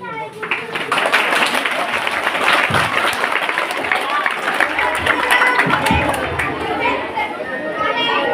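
An audience applauds after an adivasi dance at the Suravi 2024 cultural program, with clapping mixed into loud crowd chatter and children's voices throughout.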